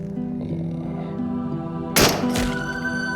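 A single sharp gunshot in the video game Into the Radius, a loud close crack with a quick ringing tail, heard over a steady humming in-game background tone, followed by a smaller second report.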